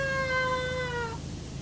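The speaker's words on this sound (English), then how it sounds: "all you hear is the screams of the cat." A cat screams in the PowerWash Simulator Lara Croft DLC, one long, loud, wavering cry that falls slightly in pitch and then cuts off, leaving a low background hum.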